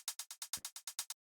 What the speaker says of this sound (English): Just like a simple close hi-hat